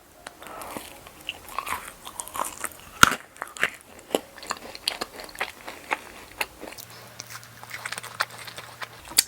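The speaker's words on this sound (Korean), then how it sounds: "여기도 이런 초코볼 같은 게 박혀 있거든요. 먹어볼게요." Someone biting into a macaron studded with chocolate balls and chewing it, with a sharp crunch up close followed by a steady series of small crackly chewing sounds.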